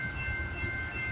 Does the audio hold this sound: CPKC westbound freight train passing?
yes